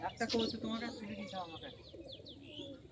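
Pigeons kept by a fancier of high-flyer birds make soft coos and chirps close by, while someone talks over them at the start.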